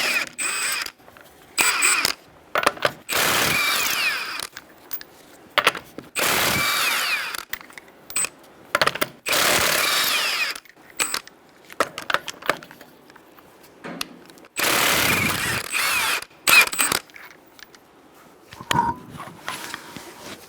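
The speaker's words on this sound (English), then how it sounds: "I'm going to use a 21mm socket to take off the front wheel." An impact tool with a 21 mm socket hammers off the front wheel nuts of a Kia Soul, firing in a series of short rattling bursts separated by brief pauses, close and fairly loud.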